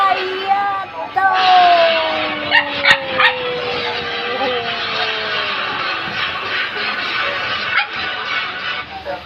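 Several dogs bark, yip and whimper close by in a loud, overlapping chorus, with excited high-pitched cries rising and falling throughout.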